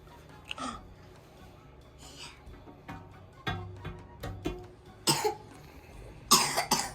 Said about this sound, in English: my baby little one is coughing